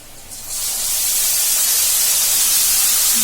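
Spice paste with ginger and garlic hits frying onions in a pan for a fish curry and bursts into a loud, steady hiss of sizzling that swells in the first half second and holds on its own.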